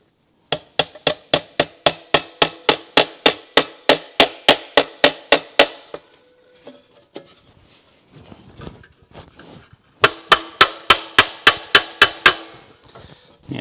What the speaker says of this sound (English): I might put a clamp on there and just tap that down